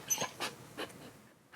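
A dog pants softly in a small New York bedroom, giving several short breathy puffs at an uneven pace, faint and close by.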